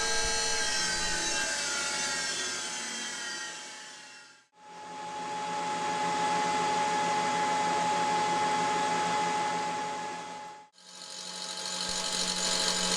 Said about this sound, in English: installed the motorized work head, and all I'm doing here is removing the bulk of material from the OD of this cutter